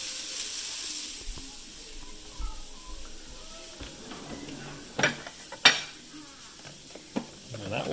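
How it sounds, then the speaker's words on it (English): Tuna reheating and cooking in a pan, with a steady low sizzle and hiss, occasional soft stirring scrapes, and a few sharp utensil clinks against the pan near the end. "all I'm doing is heating this up, and I'm cooking my tuna"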